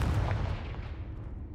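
A Confringo blasting spell explodes in the Hogwarts Legacy video game, one loud booming blast that decays into a rumbling tail over about a second and a half, alone without talk.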